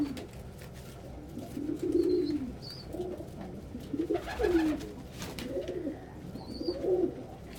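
Pet pigeons coo softly in repeated, rolling phrases with short pauses between them. A few faint higher chirps are mixed in, and no voices are heard.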